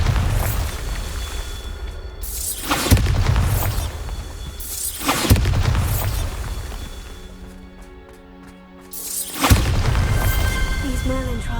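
Bombarda spell explosions in the Hogwarts Legacy video game, three loud booming blasts with shattering debris spaced a few seconds apart, each fading into rumble before the next.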